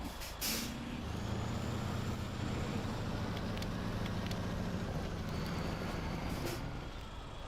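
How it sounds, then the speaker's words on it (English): A truck engine in the SnowRunner off-road driving game rumbles in a low, steady drone, with brief hissy bursts near the start and again toward the end, quiet and without voices. "Yeah, that engine sounds amazing."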